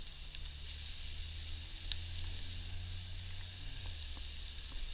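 Pre-cooked rice, cooked earlier in vegetable stock, hits a hot pan outdoors and gives a steady close sizzle and hiss with faint crackles, no voices.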